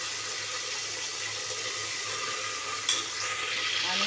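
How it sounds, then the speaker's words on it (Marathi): Mustard seeds sizzling in a ghee and oil tempering hiss steadily at close range, a dense even frying sound with a small clink near the end and no talk. "फोडणी मोहरी टाकून घेते"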